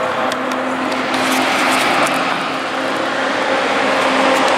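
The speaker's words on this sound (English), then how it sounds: "Oh, here comes a loud truck," A loud feed truck on a Missouri road rumbles steadily past close by, a broad, sustained engine and road roar filling the whole stretch with no talk over it.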